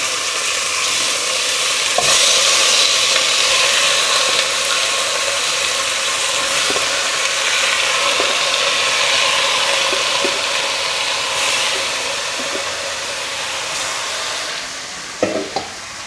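Chicken pieces for adobo fry and sizzle steadily in a pan, a dense, continuous crackling hiss with occasional stirring clicks, close and fairly loud throughout, easing slightly near the end.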